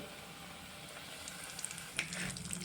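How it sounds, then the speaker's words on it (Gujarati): Vada frying in oil on a low flame, a steady soft sizzle with small crackles and pops close by, no voices. "આવી રીતે હું બધે વડા નાખી દઈશ અને ધીમા તાપે જ આપણે આને તરવાનું છે"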